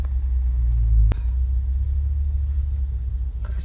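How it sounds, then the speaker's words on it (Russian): An American car passes from behind on the road, heard as a steady low engine rumble close by, with a brief sharp knock partway through. "Смотри, какой четкий америкос сзади едет."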